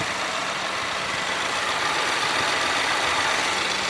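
Close-up idle of a 2019 Subaru Ascent's 2.4 liter turbocharged four-cylinder, a steady, even hiss and hum with no talking.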